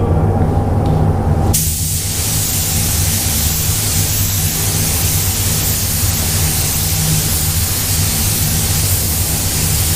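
Steady broadband hiss of a spray gun laying a second coat of paint on a pink panel, continuous and fairly loud for the whole stretch after a brief lower start, with a low hum underneath.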